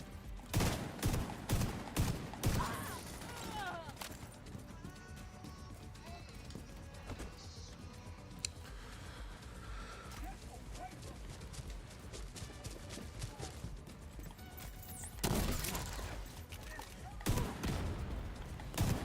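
Shotgun blasts and other gunfire crack in rapid bursts during a PvE mission in the video game The Division 2, loudest at the start and again near the end, with quieter combat noise between.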